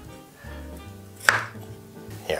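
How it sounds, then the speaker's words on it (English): Red-skinned potatoes chopped by hand with a knife: one crisp blade strike in the middle and another at the end, close, over a low steady background hum. "and then we're ready to chop."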